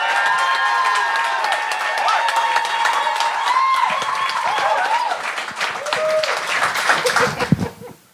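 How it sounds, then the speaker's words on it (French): Studio audience applause and cheering for comedian Natacha Vénus on a Quebec comedy gong show, a steady loud roar of clapping with whoops that holds for several seconds before thinning out at the end. "Faites un tonnerre d'applaudissements pour celle qui brise la glace, Natacha"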